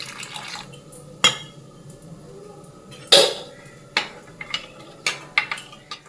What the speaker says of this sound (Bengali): স্বাদ মতো নুন লঙ্কার গুঁড়ো জল দিয়ে মশলাটা আমি গুলে রেখে দেবো